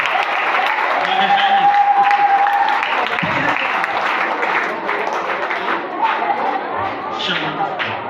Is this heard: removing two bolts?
no